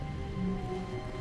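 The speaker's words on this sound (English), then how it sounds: "soft wind blew outside and perhaps rain started" Soft wind and rain outside in The Stanley Parable, a steady hushed patter and low wash of wind, quiet and even throughout.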